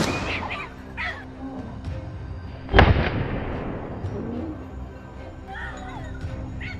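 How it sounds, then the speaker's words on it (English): A single gunshot rings out during a wild boar hunt on a brushy hillside, a sharp crack with a rolling echo under soft outdoor ambience and faint murmuring voices. "I carefully picked my first target and opened fire."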